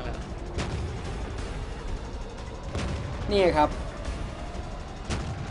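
A competitive tank video game match featuring French AMX 50 100 heavy tanks, with repeated distant cannon booms and explosions spaced a second or two apart beneath steady battle rumble and a brief voice.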